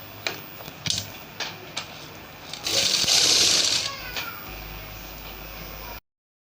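Domestic sewing machine stitching fabric for a baby night suit, with short taps and brief bursts before a sustained two-second whir of the motor, then quieter handling noise.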